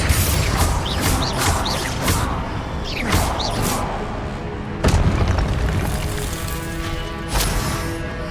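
In Hogwarts Legacy, Confringo fire spells burst into repeated loud booming explosions mixed with whooshing magic, crashes and combat clatter, dense and continuous with several sharp impacts standing out.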